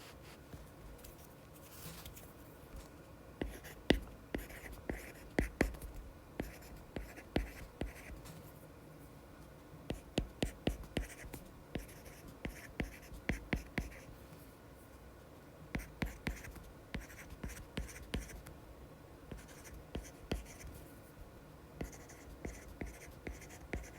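A pen writes an answer on paper, giving soft scratchy strokes in short bursts with brief pauses between words, close and quiet, no speech.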